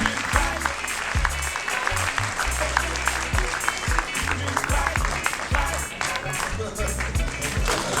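A crowd applauds Jean-Paul de Bernis at a ceremony awarding a merit medal, with dense, continuous clapping that stays loud and full from start to finish.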